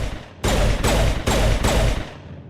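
Gunfire from a weapon in Mass Effect, four heavy booming shots in an even rhythm, loud and close, each one ringing out into the next.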